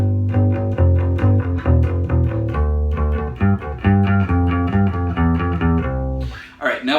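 Electric bass guitar plays a song at full tempo, a steady run of loud, close picked notes across four bars, followed by a brief spoken voice at the end.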